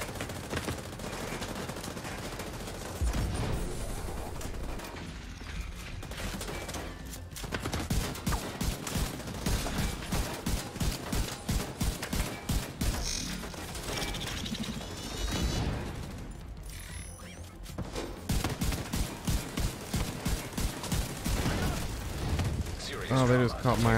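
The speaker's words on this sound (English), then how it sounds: "Propane tank got me." A propane tank explosion and gunfire in The Division 2: loud, rapid automatic bursts repeat with a sharp blast among them, while a player talks over the fighting.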